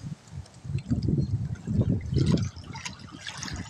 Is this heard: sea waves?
yes